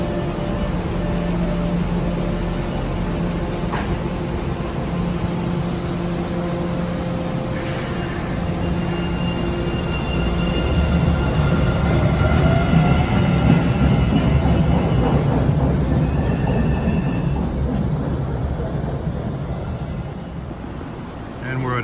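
An MBTA Orange Line train rolls through near Assembly station on track under work, its steady rumble swelling midway with high metallic wheel squeals drawn out over the loud passing noise.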